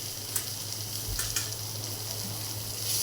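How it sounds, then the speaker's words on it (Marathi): Mushrooms fry in butter in a pan, a steady close sizzle with a few soft stirring knocks, and no talking. "छान बटरमध्ये आपले मशरूम फ्राय करून घ्यायचे"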